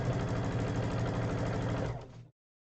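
Sewing machine stitching quilt pieces, a steady fast mechanical whir with rhythmic needle chatter for about two seconds, then stopping abruptly.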